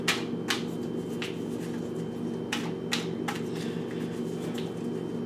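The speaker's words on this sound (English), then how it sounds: "Let's shuffle these a bit." Tarot cards being shuffled, with crisp riffling bursts at irregular intervals over a steady low background hum, close and moderately quiet, with no talking.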